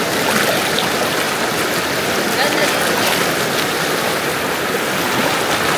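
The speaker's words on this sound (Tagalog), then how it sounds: "Nandito po tayo sa ilog ng Nagkarlad." The Nagcarlan river runs in a strong, steady current, a loud, continuous rush of water close by that never lets up, with voices faintly present.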